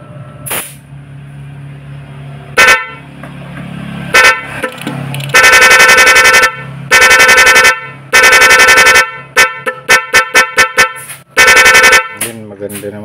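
Car horn wired through a plug-and-play interrupter relay, honking loud and close in short bursts and longer blasts, then a fast stuttering run of rapid beeps, with faint talk in the background.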